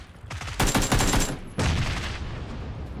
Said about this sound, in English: Where's this ump guy shooting?